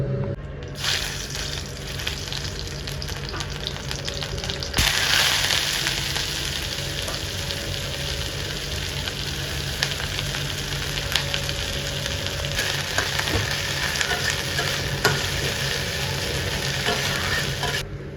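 Garlic, onion and dried chilli fry in hot oil as a tempering, giving a steady, close sizzle with occasional stirring that grows louder partway through and continues without pause.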